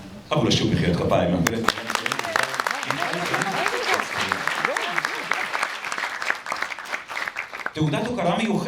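Audience applauding at an award ceremony honouring a lifetime achievement in tourism, a sustained round of many hands clapping that fills the room, with a voice speaking over it at the start and the end.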